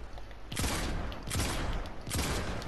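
Three loud, close shotgun blasts fire in Fortnite Chapter 4, spaced about three-quarters of a second apart, each a broad booming crack with a rolling tail.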